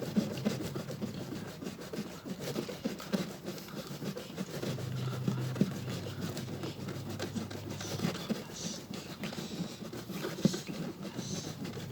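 Continuous close, quiet rubbing and scraping as an object is briskly rubbed for about thirty seconds to build up static electricity, a steady rasping friction with small irregular bumps and no talking.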